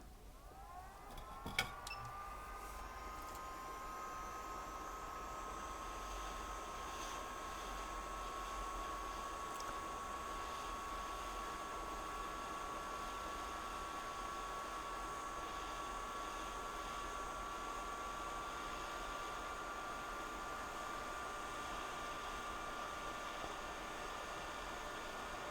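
A hot air rework station blows a steady, loud hiss of air onto a chip on a Nintendo Switch circuit board, holding an even tone throughout with a faint whine layered over the rush.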